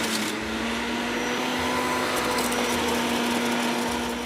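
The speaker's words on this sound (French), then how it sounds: "on va passer à l'extraction du jus avec un extracteur de jus" An electric juice extractor juices Victoria pineapple, a steady loud motor whir with a constant humming tone running unbroken and close, with no talk over it.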